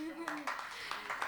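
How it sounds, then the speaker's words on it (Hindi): Sparse clapping from a small audience at an evening poetry and music gathering, several distinct soft claps at an uneven rhythm, quiet and fairly close, following a brief voice at the start. "बहुत खूब, तालियां।"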